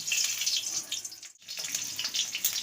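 Black cumin seeds and dried chillies dropped into hot oil in a kadai, giving a steady, bright sizzling hiss that pauses for a split second before continuing.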